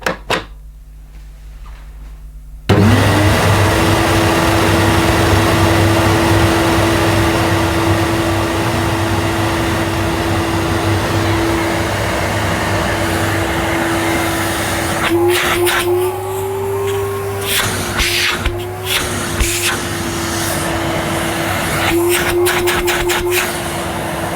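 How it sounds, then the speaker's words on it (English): A vintage 1980s Electrolux Z350 cylinder vacuum cleaner switches on after a brief quiet moment and runs with a loud, steady motor drone and whine, its pitch wavering slightly as the hose is moved near the end. "Fingers crossed it sounds as smooth as an Electrolux should sound."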